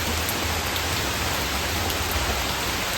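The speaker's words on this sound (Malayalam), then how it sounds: "രാവിലെ തുടങ്ങിയ മഴയാണ് ഗൈസ്. ഇപ്പോഴും ചാറി നിൽക്കുവാണ്." Steady rain falls outside after a morning-long downpour, a dense even hiss of drops on surfaces with a low rumbling undertone, continuous and fairly loud with no voices.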